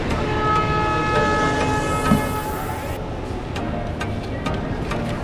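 A train rumbles through a Vizag railway station with a rising horn or whistle tone, rhythmic wheel clatter continuing underneath.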